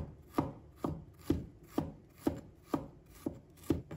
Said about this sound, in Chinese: 把生姜也切成小片